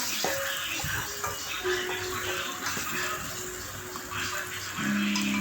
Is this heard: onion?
yes